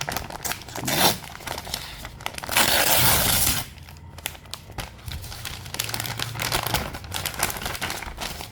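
Crinkly plastic packaging of a 32 GB memory card torn and crumpled open up close, with a burst of loud rustling in the middle and quieter handling around it, no talking.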